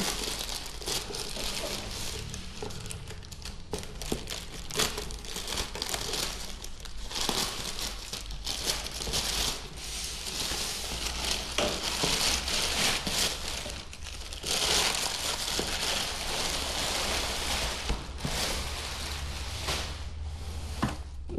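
Plastic packaging being pulled off an HJC FG-17 motorcycle helmet, a continuous close crinkling and rustling with sharp crackles throughout.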